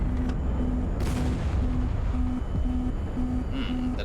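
Heavy gun rounds fire in the HighFleet naval combat game, a loud sharp blast near the start followed by a low, steady rumble of battle with a faint repeating tone running underneath.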